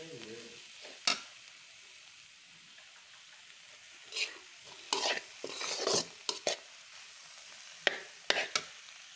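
Egg bhaji frying in oil with a soft, steady sizzle, broken by a series of sharp, close scraping stirs of a spatula against the pan, some coming in quick clusters.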